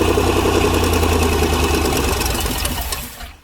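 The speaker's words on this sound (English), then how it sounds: "It starts right up!" A 1977 Corvette V8, a totaled ex-dirt-track junkyard car with no exhaust, runs loud and rough at idle with a steady low rumble, then cuts out and fades at the end.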